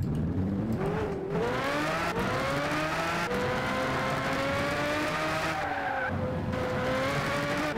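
A lightweight car with quad exhaust pipes drives hard, its engine roaring and revving continuously with rising and falling pitch, and tires squeal loudly throughout.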